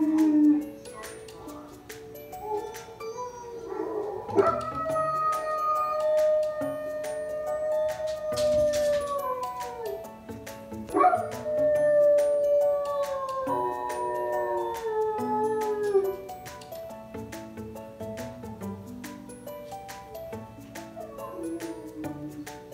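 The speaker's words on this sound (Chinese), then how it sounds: "网上有一个视频，别人家的狗跟着狼叫" A dog howls along with wolf howls played from a recording, with long, drawn-out rising and falling howls that overlap and repeat, broken by a few short yips and whimpers, moderately loud and near.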